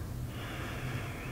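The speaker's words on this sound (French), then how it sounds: "On reste ici, trois autres respirations." Steady audible breathing, with a soft sniff-like inhale then a slow exhale, while someone holds a yoga pose during a beginner class.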